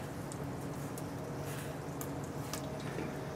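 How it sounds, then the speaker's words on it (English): Gnocchi sliding into a pot of water at a rolling boil, heard as a steady bubbling, hissing wash with faint drips and small splashes throughout, close and even in level, no talking. "Just let them slide into the water."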